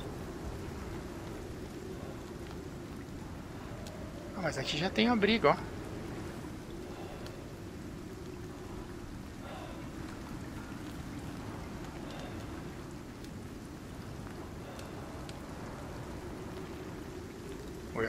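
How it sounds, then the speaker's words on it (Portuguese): Rainstorm in the survival video game Icarus, a steady broadband hiss of rain running throughout with a brief louder burst partway through, while someone talks quietly over it. "Olha a tempestade que tá passando."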